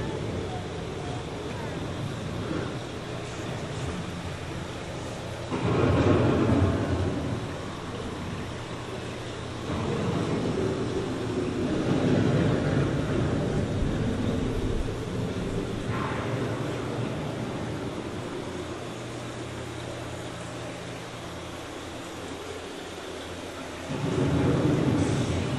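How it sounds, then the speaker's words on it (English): A staged thunderstorm on Epcot's Living with the Land boat ride, with rolling thunder swells and rumbling wind that rise and fall in several surges, under a narrator's voice. "The approaching storm may seem violent and destructive to us"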